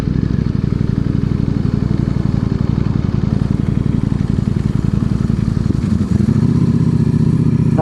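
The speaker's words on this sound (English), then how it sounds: "could hear his dry clutch" A Ducati Panigale V4R motorcycle idles and runs steadily close by, its dry clutch giving a loud, continuous metallic rattle over the engine's pulsing throb, with the tone changing near the end.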